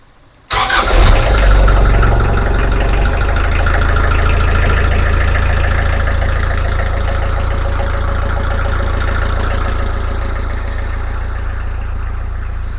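A car engine cranks and fires after a water pump replacement, then settles into a steady loud idle with a slight ticking knock, running close by for over ten seconds without talk.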